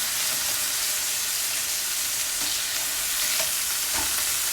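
Food sizzles and fries steadily in a hot pan just after being flipped, a dense continuous crackle with a few small pops, close and fairly loud, with no talking.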